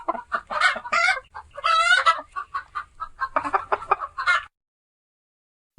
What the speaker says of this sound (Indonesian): Ayam betina